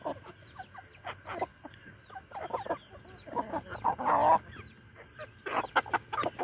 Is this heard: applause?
no